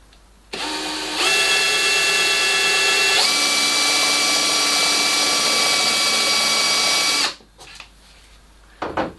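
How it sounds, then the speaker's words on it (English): A power drill runs loud and steady for several seconds, its pitch rising once as it speeds up, then cuts off abruptly. "putting dowels into each one as I drill them."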